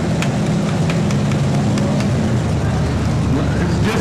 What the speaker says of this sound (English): Coming up is Leo Berger, driving the Impala